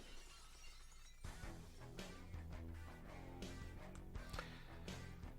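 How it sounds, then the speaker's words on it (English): A sudden loud crash of shattering glass opens a wrestling entrance theme, and heavy rock music with pounding beats follows straight after. "I want to hear the glass break."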